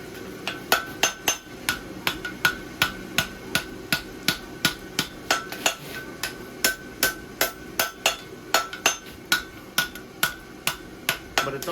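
A hammer strikes steel in a steady run of about thirty sharp, ringing blows, close and loud, while a horseshoe-shaped hoof template is shaped by turning a toe, with no voices.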